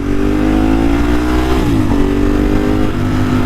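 A 1098 motorcycle engine revs close and loud, its steady harmonic drone climbing and then dipping briefly partway through before settling back, with no talk over it.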